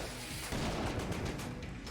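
Gunfire in the Enter the Gungeon video game, a dense, loud stream of rapid shots and bursts that runs continuously without a break.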